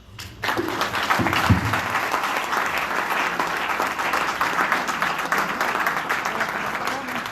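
Sustained audience applause at a Spanish-language book presentation for a diabetes textbook, with dense steady clapping filling the room after a brief voice at the start.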